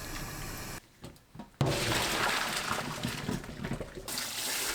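Blanched spring cabbage rinsed in cold water gives a steady, close splashing rush that stops briefly for a quieter, broken patch before running on without a pause.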